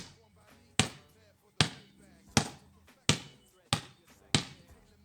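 Two balls in a juggling drill, one bounced on the floor while the other goes overhead, give seven sharp, evenly spaced thumps on a hard floor, close and loud, with a quiet room between hits.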